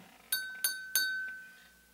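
Three bright clinks from a drinking glass partly filled with water being struck, evenly spaced with a sustained ringing tone that fades slowly afterward, close and clear with no talking.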